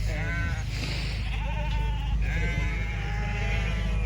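Lambs bleating repeatedly in a busy show ring during wether lamb sheep judging at the Perth show, several overlapping calls near and far over a steady crowd hum.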